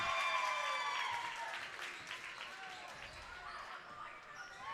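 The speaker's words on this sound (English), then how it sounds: "And the crowd's still going wild" A high school basketball crowd cheers and applauds in a gym during a lopsided game, a loud roar of clapping and shouting that fades somewhat and then continues, with a voice and whistle-like tones over it.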